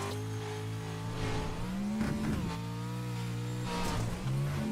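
Pro 4 race truck engine in the iRacing simulator, snarling steadily with rising and falling pitch as it accelerates down a front straight toward a new lap, loud and continuous with no talk.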